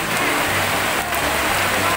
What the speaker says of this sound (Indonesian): Empi, mandi hujan.